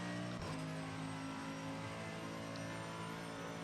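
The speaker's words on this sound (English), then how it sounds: "Let me raise the sound a little bit so I can hear what the car is doing" A race car engine in a racing video game hums steadily at fairly low volume, with a short shift or bump early on before the tone settles into an even drone.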